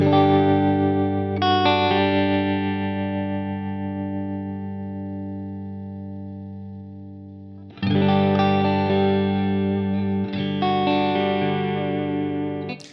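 Electric guitar chords ring out through a Line 6 Helix tremolo effect with wide stereo spread, one long chord slowly decaying, then two more struck loudly and sustained.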